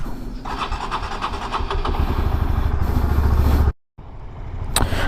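A motorcycle engine starts and runs with a steady close throttle rumble, cutting out briefly before a short burst of noise returns, with no talk heard.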